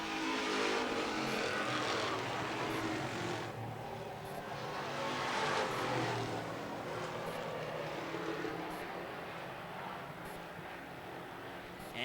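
Street stock race cars roar around an oval track during a Strictly Street heat, a fairly distant, continuous engine drone that swells and fades as the pack passes.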